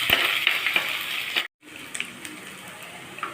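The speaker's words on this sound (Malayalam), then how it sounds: "വെളുത്തുള്ളി അരിഞ്ഞ് വെച്ചിടാം ഇഞ്ചി അരിഞ്ഞ് വെച്ചിടാം എന്നിട്ട് ഇഞ്ചി നന്നായിട്ടൊന്ന് ഇളക്കാം" Chopped ginger and garlic sizzle in hot oil while being stirred, a close crackling hiss with light scrapes, broken by one brief moment of silence before the frying resumes.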